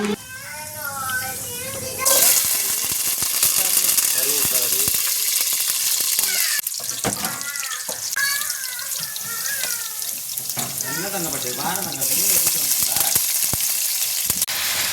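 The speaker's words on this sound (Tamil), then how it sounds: "கொஞ்சமாக ஃபிஷ் மசாலா தூள் போட்டாச்சுன்னா போட்டு வதக்கிட்டுருக்கோம்" Turmeric and fish masala powder sauté in hot oil with tomato, garlic and curry leaves for a fish curry, sizzling steadily throughout while a person talks over it, with a few clatters and shifts in the frying noise.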